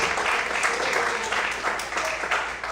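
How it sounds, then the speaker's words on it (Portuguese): Church congregation applauds during a sermon, sustained moderate clapping from many hands that fills the hall without pause. "Você pode aplaudir o Senhor bem forte."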